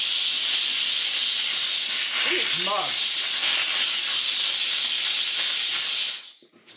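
Steady, loud hiss of a Beldray Titanium handheld steam cleaner blasting steam into a carpet stain, continuous for several seconds before cutting off, with a short spoken word and a brief voice partway through.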